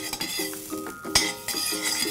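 Butter and olive oil sizzle in a pan for a meat soup, with a soft steady hiss broken by utensil stirring and light metallic clinks.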